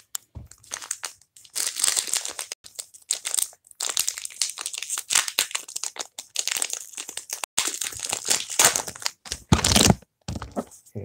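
Close-up crinkling and tearing of foil Pokémon trading card pack wrappers, with bursts of crisp crackling and short rips, stop-start throughout with brief pauses.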